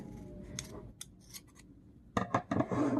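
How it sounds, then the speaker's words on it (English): Scissors snipping through yarn while finishing a chunky crochet wreath: a few quiet, crisp blade closures up close, followed by a louder burst of rustling and snipping near the end, no talking. "we're just going to cut our yarn"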